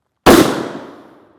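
A single sharp, very loud rifle shot firing an M948 SLAP tungsten sabot armor-piercing round with the muzzle brake removed, a sudden crack followed by a decaying echo lasting about a second, with no voices.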